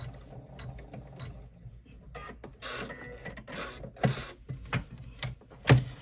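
An embroidery machine stitches seams on a woven strap bag in the hoop, giving intermittent mechanical whirring and clicking bursts, with sharper clacks and thumps toward the end.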